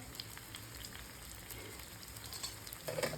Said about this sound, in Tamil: சுற்றி தேங்காய் எண்ணெய் விடுறேன். அடைக்கி தேங்காய் எண்ணெய் தான் டேஸ்ட்டு.